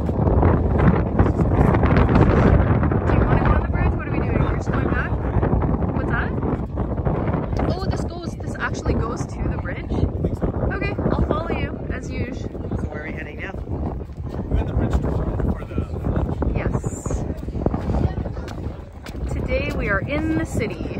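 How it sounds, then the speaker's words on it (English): Strong wind buffeting a microphone outdoors in Porto, Portugal, near a bridge, as a loud, continuous rumbling roar with gusts, while a person talks over it. "If you can hear the wind, then that's good."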